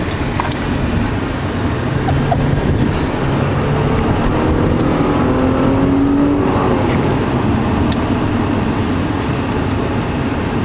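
Heard from inside, an Audi car accelerates hard with a continuous loud engine roar that rises and shifts pitch as the gears change, with no talking.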